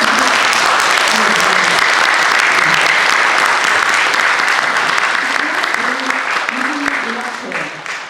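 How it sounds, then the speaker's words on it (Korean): A large audience gives loud, continuous applause for traditional Korean instrumental performers at a concert, with a voice speaking over the clapping as it slowly tapers. "이렇게 오늘 쭉 나와 계신 분 한번 크게 박수 주세요"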